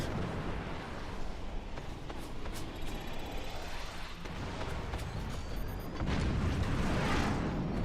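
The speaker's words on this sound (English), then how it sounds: "That howitzer should come flying here in a moment." Howitzer shells landing in a video game match: a dense run of heavy booms and blasts rolls on without a break, loud and crowded, and swells even fuller toward the end.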